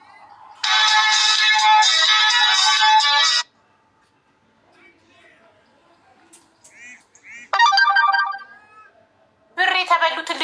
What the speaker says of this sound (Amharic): በዋትሳፕ ልጥራት